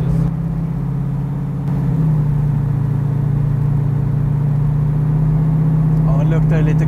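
A Ford car with a large-displacement, solidly mounted engine revs from inside the cabin, a loud low drone that steps up and holds steady, with brief voices near the end.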